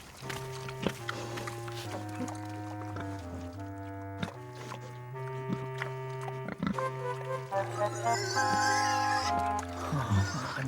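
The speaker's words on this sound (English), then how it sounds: "Thanks, little pig." A cartoon pig in an animated Bible story grunts and oinks over a sustained musical score, its snorts recurring at intervals against the melody.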